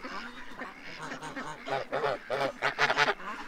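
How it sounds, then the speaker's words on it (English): Several farm birds give a run of harsh quacking honks, growing louder and more rapid toward the end, close by and with no talk. "they're birds, you know, they're just birds"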